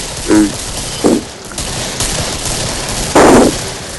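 Gunfire in the video game Killing Floor: several short, loud bursts of shots spaced across a dense, noisy background of game sound, with no talk.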